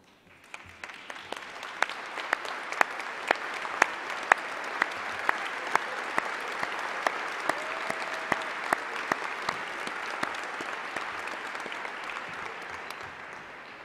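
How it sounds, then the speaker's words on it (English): A school-district awards-show audience applauds its Blue Ribbon sponsors, the clapping swelling quickly into a full, steady ovation from a large crowd with crisp individual claps standing out, then easing slightly toward the end. "let us give you a round of applause"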